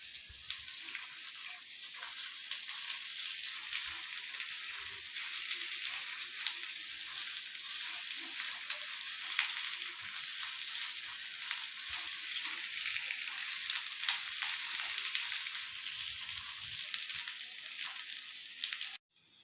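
Ginger and green chillies sizzle steadily in an oiled pan, a dense continuous frying hiss that stays even and close throughout with no talking.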